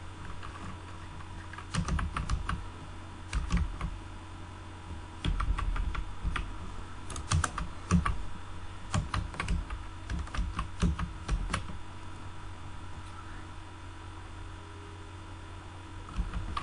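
Close, crisp clatters of a computer keyboard come in irregular bursts of keystrokes with brief pauses, steady and alone over a faint hum, as text is typed for a business card design.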